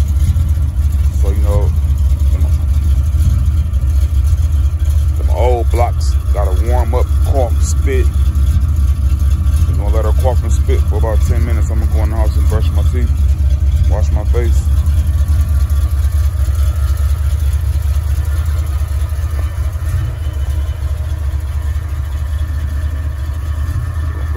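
A Chevrolet Camaro Z28, left unstarted for a couple of weeks, idles steadily and loudly close by, with a low continuous engine rumble throughout while people talk over it in the middle stretch.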